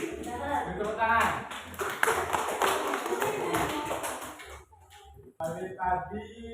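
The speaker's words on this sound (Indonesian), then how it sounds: "Tepuk tangan." Children in an elementary school classroom clap their hands together in a quick burst of many overlapping claps, fading out after about four seconds, with voices talking over and after it.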